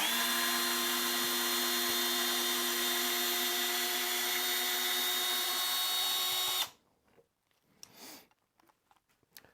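A Bosch FlexiClick cordless drill driver drives a big screw into wood, whirring loud and steady for about six seconds before stopping, followed by faint handling noises.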